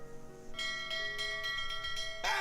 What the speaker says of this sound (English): Are you ringing the bell again?